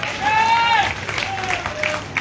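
Crowd at a political support rally led by a politician claps steadily, with high tonal whoops or whistles rising over the applause and a brief voice in the mix.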